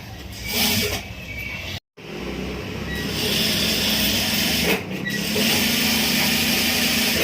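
A sewing machine runs steadily while stitching a lining, a loud continuous mechanical whir with a brief stop near the start and a short dip midway.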